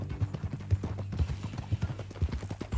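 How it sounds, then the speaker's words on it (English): Horse hooves clip-clop at a steady walking pace in the Red Dead Redemption 2 video game, soft and fairly close, with voices talking quietly. "That new horse? Some folk buy ranches, some buy horses. Horses are cheaper. He looks mean."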